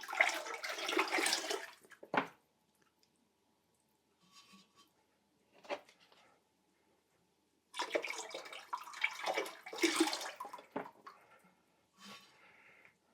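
Liquid glaze pours over the outside of a textured mixed-clay pot in splashy bursts, with quiet pauses between pours and a few faint drips and trickles.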